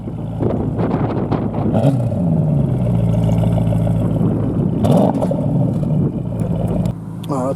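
Close by, a Porsche Panamera Turbo S E-Hybrid Sport Turismo's engine rumbles loudly at a steady throaty idle, with a couple of brief rev swells.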